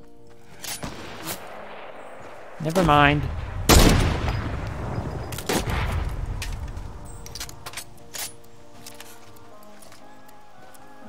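Gunfire rings out in an arena-mode video game as shots are aimed at the player, coming as a scatter of sharp cracks and a louder burst midway, with a voice briefly speaking.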